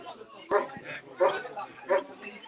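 A dog at a non-league football match barks in three sharp yips at roughly regular intervals, fairly close, amid background voices and crowd noise.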